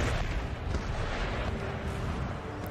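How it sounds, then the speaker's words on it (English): Distant artillery barrages rumble in an Empire: Total War battle, a dense, continuous roar of booms and crackle blending into steady battlefield noise with no distinct single shots. "All their artillery is aiming at the third light horse back here."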